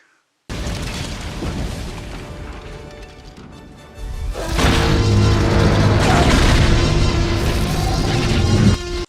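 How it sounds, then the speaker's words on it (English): Bomb explosion sound effect from The Book of Boba Fett: a loud crashing blast, then a second, heavier booming explosion that rumbles and sustains to the end. "the bombs. I'm not gonna diss the bombs considering they are like the best sound effect since the Tyrannosaurus in Jurassic Park"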